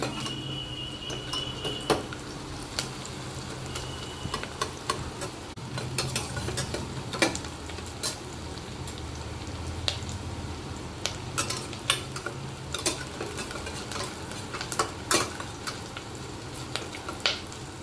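Onions frying in a pan for coconut-milk spinach rice, a steady soft sizzle with a low hum beneath, broken by frequent sharp clinks and scrapes of a utensil stirring against the pan.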